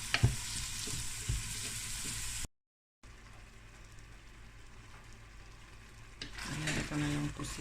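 Onion, tomato and green pepper sauté in a pan with a steady, moderate sizzle and occasional stirring scrapes, broken by a brief moment of silence and swelling louder near the end.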